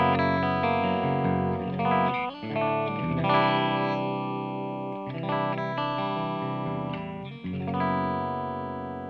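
Electric guitar through a Revv G50 50-watt amp with the bright switch engaged, playing sustained distorted chords and riffs with a crisp, saturated tone and some ambience, loud and continuous with no talking.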